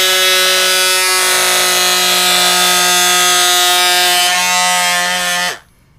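A small vibrating motor on a homemade cup doodle bot buzzes loud and steady inside the cup, echoing harshly for about five seconds before abruptly cutting out.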